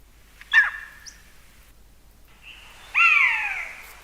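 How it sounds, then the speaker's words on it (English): A buzzard in the video game Battlefield 4 gives two clear, loud, descending mewing screeches, a short one and then a longer drawn-out cry, over near silence. "Yeah, it's definitely a buzzard."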